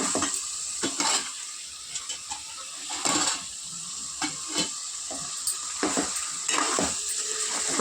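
Chicken frying and being stirred in a pan for chicken bagara rice, with a steady loud sizzle broken by repeated scraping stirs, no talking.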